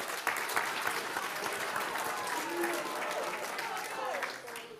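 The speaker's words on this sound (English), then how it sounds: "a round of applause for you guys for showing up and being here" An audience at a water polo awards presentation claps in a steady sustained round, moderately distant and even, with scattered voices and a few cheers rising faintly through the applause.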